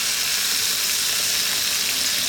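Lamb steaks frying in a pan, a steady dense sizzle that holds evenly throughout at close range, with no voices over it.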